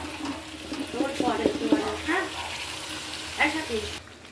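Marinated chicken tipped into a hot pan, sizzling and spattering loudly for a few seconds with stirring scrapes, the frying hiss easing off toward the end.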